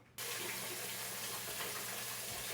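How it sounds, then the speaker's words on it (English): Water from a kitchen faucet runs steadily over fresh vegetables being washed, a continuous close splashing rush that starts abruptly and carries on alone without talk. "I am gonna wash thoroughly my veggies that you see in front of you"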